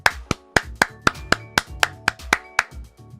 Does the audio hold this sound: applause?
yes